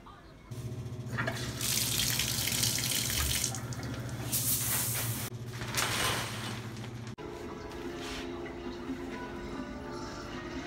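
Water runs steadily from a tap for washing hair, a loud continuous splashing rush with a faint hum beneath that shifts in tone partway through as the flow changes.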